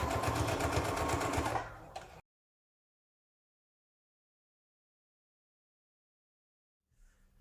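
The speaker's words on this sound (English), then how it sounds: "you're going to sew the top portion all the way around and then the bottom all the way around" Sewing machine stitching the top portion of fabric, a fast steady mechanical whir and rattle up close that stops abruptly after about two seconds, followed by silence and a faint brief rustle at the end.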